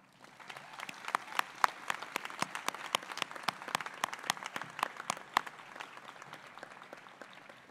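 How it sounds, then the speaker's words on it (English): Graduates at the Denison University 2021 commencement give themselves a long round of applause, dense overlapping claps with sharp individual smacks standing out, steady and fairly loud across the whole stretch with no voices over it. "So please give yourself a round of applause for all that you've done."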